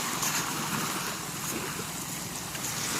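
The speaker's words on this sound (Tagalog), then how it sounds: "Dito tayo ngayon sa tabi ng dagat." Steady broadband wash of sea waves at the seaside, mixed with wind buffeting the microphone, continuous and fairly close with no voices.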